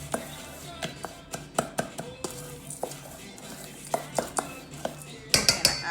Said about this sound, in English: I'm just gonna grab a spoon. So I'm just gonna mix them.